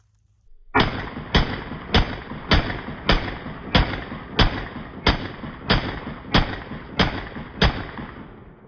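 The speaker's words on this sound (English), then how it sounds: "Not exactly sure how long it took me to fire off 12 out of my AR." Twelve evenly spaced semi-automatic shots from an AR-15 rifle ring out one after another, each a sharp loud crack with a short echoing tail, steady rhythm of roughly one shot every 0.6 seconds, no voices.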